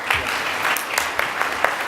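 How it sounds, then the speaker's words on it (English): An audience claps steadily, a dense continuous burst of applause filling the room, loud and close throughout without any voice on top. "big round of applause for them"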